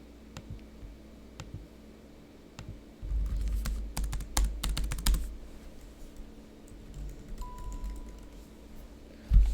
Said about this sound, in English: My laptop keyboard is not working with this.